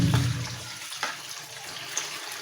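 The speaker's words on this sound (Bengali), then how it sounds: "তো আমি পরিষ্কার করে মাছগুলো এখন ধুয়ে নিব।" Fish, including koi, washed under running water, a close, continuous splash and trickle with a brief louder gush at the start and small knocks as the fish are handled.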